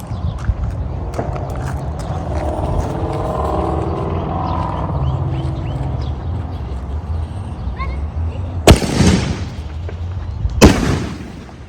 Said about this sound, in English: you put like the shell inside of the tube, and it shoots up into the air